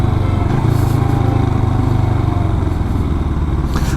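Twin-cylinder Royal Enfield Himalayan 400 motorcycle engine running while riding, a steady loud low rumble that holds for the whole stretch with a slight surge in the middle.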